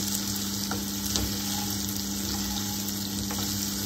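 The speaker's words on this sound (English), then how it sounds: "Add the potato, turn the gas to sim, mix it well." Potatoes fry in a pan on a gas stove turned down to simmer while being mixed. The loud, constant sizzling hiss is close by, with a few faint clicks from stirring.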